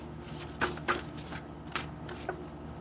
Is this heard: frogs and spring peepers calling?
no